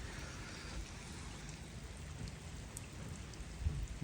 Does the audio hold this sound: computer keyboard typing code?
no